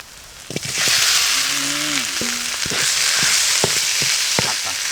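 Eel pieces sizzle loudly as they hit a pot of frying shallots for a spicy Thai stir-fry, a steady hiss of hot oil with clanks of a spatula and brief background calls.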